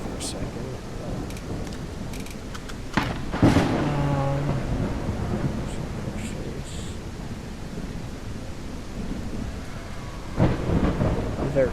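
Video game thunderstorm with continuous rain hiss and low rumble, punctuated by a sharp thunder crack followed by a louder rolling swell and another surge near the end; a voice briefly speaks over it.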